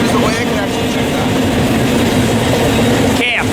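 Union Pacific container freight train rolling by near Barstow, California, a steady low rumble with a droning tone and wheel clatter, a brief sharp squeal near the end; a voice is faintly present under it.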